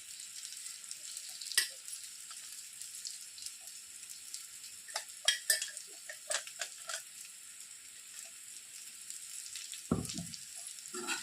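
Stuffed bitter gourd frying with masala in a pan on low heat, a steady soft sizzle broken by scattered clicks and scrapes of stirring, one low knock near the end.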